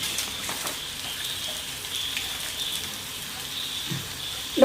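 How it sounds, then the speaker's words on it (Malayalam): Onions sauté in a pan with a little salt for an Onam onion curry, giving a steady, soft sizzle close by with faint stirring clinks and no talking. "ഇനി ഇത് ഇളക്കി വഴന്ന് വന്ന് നന്നായിട്ട് വഴരണം."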